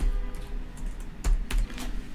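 A computer keyboard is typed on in a few sparse, quiet keystrokes with clicks spaced unevenly, close by, with no talk over them.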